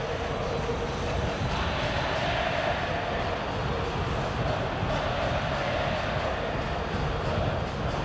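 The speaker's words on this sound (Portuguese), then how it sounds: "Volta a subir o som, o volume da torcida do Boca." A dense, steady roar from Boca Juniors supporters fills a football stadium during the Libertadores final first leg against Corinthians, a continuous wash of crowd noise that holds at a constant level throughout.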